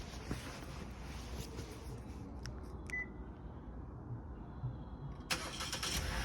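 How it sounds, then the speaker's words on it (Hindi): A car engine starts on a leafy street: a brief electronic beep and a starter crank, then the engine catches and rumbles steadily, moderately close under faint outdoor background, with no one talking. "गाड़ी को स्टार्ट कर लेते हैं।"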